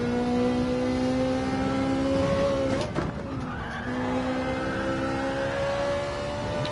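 A Ferrari race car in Gran Turismo 7 holds a loud, steady engine drone, then lifts and shifts mid-way with a brief dip and tire scrub before the revs climb again, continuous and close with no voices.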